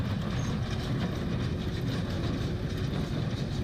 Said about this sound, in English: I run a hay baler, which is what makes the squares and puts a string around it all